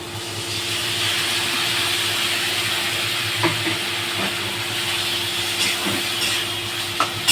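Spice paste with turmeric and chili powder sizzles steadily in a hot pan while cooking a Bengali rohu fish curry, a continuous hissing fry with a few faint stirring clinks, no talking.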